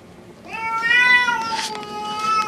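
Two cats, a house cat and a neighbor's cat, meow and caterwaul at each other in a rising, drawn-out yowl that swells loudly, then trails into rougher cries nearby.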